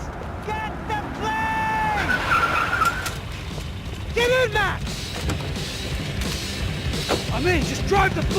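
A car in the video game Max Payne 3 drives hard with loud engine noise and repeated squealing tire skids, under busy, continuous game sound with voices.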